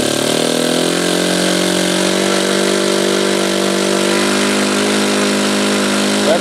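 A Saito twin-cylinder model engine running at full throttle with its needle leaned slightly and the glow plug off, a loud, steady, buzzing drone close by that holds its pitch throughout, with no talking.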